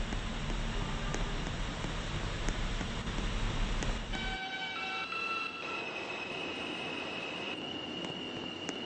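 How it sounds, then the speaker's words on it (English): Local train arriving at a station, a loud low rumble of rolling wagons that cuts off sharply midway, followed by high squealing wheel and brake tones as it slows. "There is a local train approaching the station."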